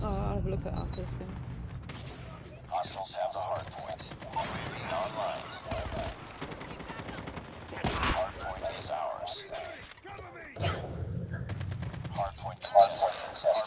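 Rapid automatic gunfire from a rifle fitted with a 45-round combination magazine in Call of Duty Mobile battle royale, bursts of shots rattling on and off throughout amid game effects, with a voice talking over it.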